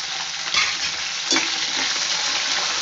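Ingredients for pirandai (adamant creeper) chutney sautéing in a pan, with a close steady sizzle and a few sharp stirring knocks around mid-clip, no talking.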